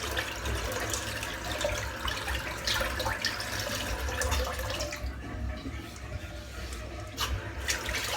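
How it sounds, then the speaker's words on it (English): Water draining out of a filled bathroom sink during a head shave, a steady low gurgling rush with some splashing, fairly faint and continuous. "I'm just going to empty this sink out again because it's absolutely chockers full of crap again."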